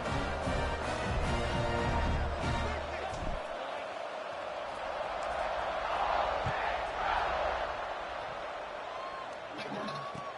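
A stadium crowd roars and cheers steadily in a college football video game, a broad sustained wash of noise under a commentator's voice.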